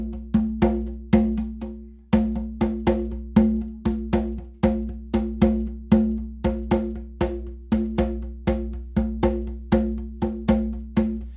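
A drum plays a steady repeating pattern that alternates groups of three and two strokes, with louder and quieter hits. The strikes are close and clear, with no talking.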